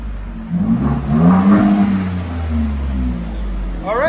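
A Ford F-150 with the 3.5L EcoBoost and a Carven R exhaust revs up and settles back to a deep idle rumble, fairly close, with a brief whine near the end.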